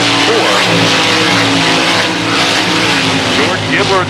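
Race cars roaring around a dirt oval track, loud and close, engines droning continuously with pitch sweeps as they pass through the turns, under a commentator's voice.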